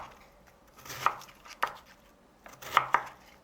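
Knife chopping ingredients into big matchstick pieces for spicy Korean beef soup, yukgaejang, a handful of sharp, close cuts on a board in uneven rhythm, with quiet gaps between.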